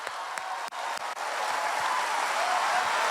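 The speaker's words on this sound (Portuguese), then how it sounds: "se é para aplaudir, aplaude com vontade" A church congregation applauds during a revival service at an Assembly of God church, with dense, sustained clapping that fills the room and keeps going at an even level throughout.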